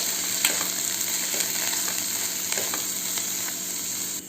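Boiled cowpeas are stirred with browned sautéed onions in a sizzling pan; a constant frying hiss runs beneath scattered scraping taps of the spatula, close and fairly loud.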